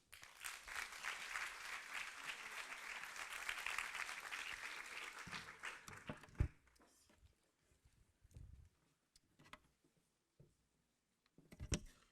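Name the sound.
audience applause welcoming a speaker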